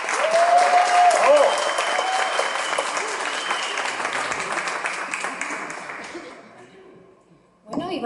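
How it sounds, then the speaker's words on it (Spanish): A crowd at a foundation event applauds a dancer being introduced on stage, a loud, sustained wash of clapping with a voice briefly heard near the start, then dying away into a short lull before sound picks up again. "Con ustedes, por favor, un fuerte aplauso"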